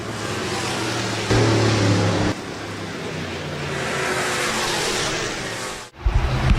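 Several USRA stock cars race around the Rapid Speedway dirt oval under green, a steady loud roar of engines with a surge as the pack passes close, then a brief dip before engines bark up again nearby.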